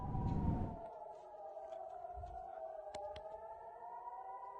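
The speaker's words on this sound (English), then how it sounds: "So these are air raid sirens" Air raid sirens sounding near Umm al-Fahm, Israel, a faint distant wailing tone held steady across the clip, with a brief rumble at the start and a couple of soft clicks.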